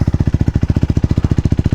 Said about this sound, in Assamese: চ' কোল্ড ষ্টাৰ্টটো হৈ থাকক, তেতিয়ালৈকে বাইকখনো উলিয়াই লওঁ।